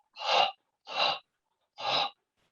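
Three slow, breathy exhales with a soft throaty rasp, like breathing onto glasses to fog them, evenly spaced and close, with silence between.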